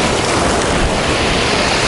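Sea waves break against a concrete shore with a pebble shingle beach and a breakwater in Khosta, Sochi, during a December storm. A loud, continuous wash of surf roars with steady wind noise and no pauses.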